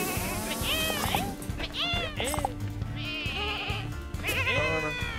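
Sheep in the video game Lumberhill bleat repeatedly, several wavering cries overlapping one another, loud and close, with short excited voices talking between the calls.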